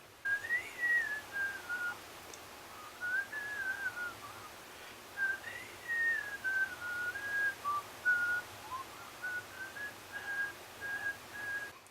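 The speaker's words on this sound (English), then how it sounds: "And then here's the whistle through my mouth." A high, thin whistle-like tone traces a slow melody in short phrases with pauses between, soft and close, over a quiet background.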